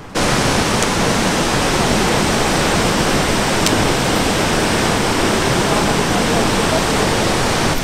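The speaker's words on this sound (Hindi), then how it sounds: "ये हमारे पीछे जो पानी की आवाज़ जो शोर सुनाई दे रहा है आपका" Loud, steady roar of water falling from a great height into Telhar Kund in Bihar, filling the whole clip, constant and unbroken.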